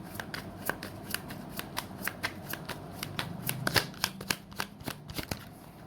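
Tarot cards shuffled and drawn by hand, a run of crisp, close flicks and riffles in an irregular rhythm, fairly quiet with no talk.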